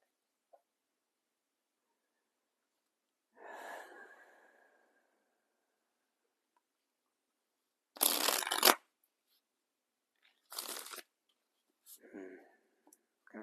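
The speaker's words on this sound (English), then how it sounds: "Got a couple more shuffles and I'll be ready to deal." A deck of tarot cards is shuffled in a few separate bursts of quick riffling, close and fairly loud, with quiet pauses between them.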